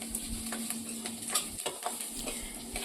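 Peeled garlic cloves fry in a pan for an ivy gourd spice dish, giving a steady close sizzle with soft stirring scrapes throughout.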